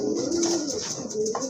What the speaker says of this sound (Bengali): এই যে এটা কিন্তু আপনার নট কবুতর